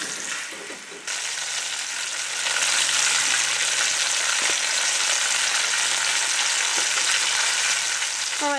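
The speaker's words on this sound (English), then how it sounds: "I'm hoping to hear that sizzle." Steady, loud sizzling of pot roast meat searing in a hot pot, a dense crackling hiss that swells after a brief quieter start and holds without talk.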